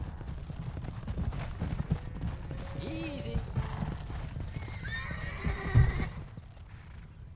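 Rhythmic clip-clop of horse hooves with a couple of whinnies in the video game Red Dead Redemption, someone speaking briefly over the trotting.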